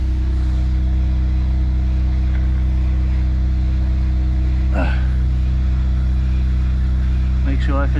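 An Audi or VW car idles in drive with its wheels spinning, giving a steady low engine hum throughout, with brief human sounds partway through and near the end.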